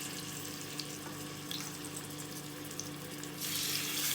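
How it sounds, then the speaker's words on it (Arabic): Meat searing in a stainless steel pan for a Moroccan lamb tagine with prunes gives a steady close sizzle and hiss, growing louder and brighter near the end, with no talking. "انا عايزة تشويح للحمة الاول"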